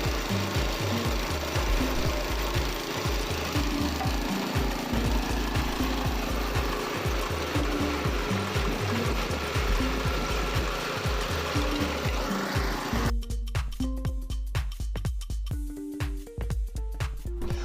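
A trencher cuts a trench for 1-inch irrigation pipe on a 200-foot run, its engine chugging loudly with a steady pulsing rhythm and a rattle of digging chain. The churning continues without a break, and no one speaks over it.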